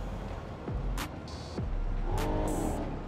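A video game car drifts off a giant ramp while driven with a steering wheel, engine droning steadily with rising pitch sweeps and a tire squeal, continuous and fairly loud.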